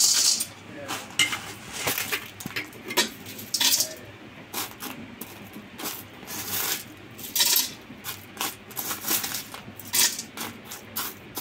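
Cardamom pods dropping into a dry pan of roasting whole spices for shahi garam masala, giving a scatter of light clinks and rattles in bursts, close and fairly quiet, with a voice talking softly between them.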